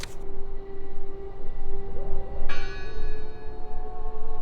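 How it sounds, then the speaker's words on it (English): A church bell rings in the horror game Draugen with a sustained metallic hum. A second, brighter strike lands midway and its overtones ring out over low rumbling ambience. "Listen! The bell!"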